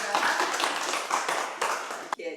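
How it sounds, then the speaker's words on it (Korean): Applause from a workshop audience at an environmental education leaders' gathering welcomes climate emergency action co-chair Kim Hyun-jung: dense, steady clapping fills the room, ending abruptly with a brief sharp knock. "김현정 위원장님 큰 박수"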